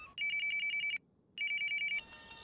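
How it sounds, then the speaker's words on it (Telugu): A telephone rings in two bursts of rapid electronic trilling separated by a short pause, loud and close, before fading into quiet room sound. "రింగ్ అవుతుంది"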